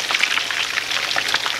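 Striped bass fish cakes fry in a hot cast iron pan, giving a steady, close crackling sizzle with dense little pops and no voices.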